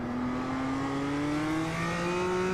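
Toyota GR86 engine in the iRacing sim, held at steady high revs with a smooth rising pitch as the rear end nears losing grip; loud, continuous and close, with no talk over it.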